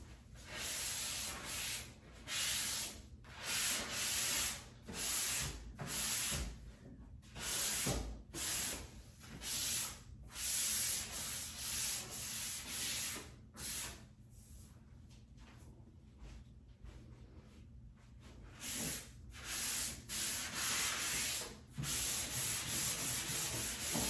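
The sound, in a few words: hand sanding painted wooden furniture between coats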